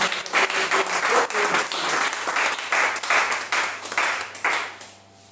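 A church congregation at a French-language worship service bursts into sustained, dense applause, many hands clapping together for about five seconds before fading out at the end.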